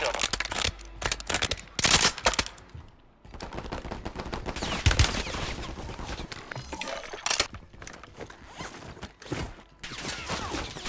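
A pair of dual-wielded Reclaimer 18 shotguns blast rapidly on Rebirth Island in a shooter game, sharp loud bursts crowding together in quick volleys amid other gunfire, with a voice talking over them.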